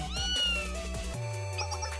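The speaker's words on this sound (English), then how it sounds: "Oh, a cat." A cat in the Blue Archive video game meows, one clear drawn-out meow followed by a shorter softer call, alone and close with no talk.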